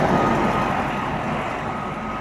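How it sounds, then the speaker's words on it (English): Road traffic rumbles past a path near the roadside as a loud, continuous low drone that fades slightly toward the end, with no talking. "Just hope the microphone's picking me up over the noise of the traffic."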